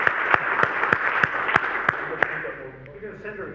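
Scattered applause from a small audience after an embedded software engineering talk, a few distinct sharp claps over a softer patter that thins out and fades toward the end.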